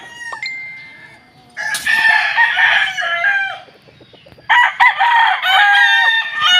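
A pure Golden Boy sweater gamefowl rooster crows loudly and close at a game farm, two long harmonic crows separated by a brief lull, with fainter clucking before the first.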